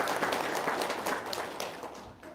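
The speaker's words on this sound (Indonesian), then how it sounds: "Tepuk tangan dulu dong" A crowd at a testimonial gathering applauds, a dense burst of clapping that slowly thins and fades over a couple of seconds.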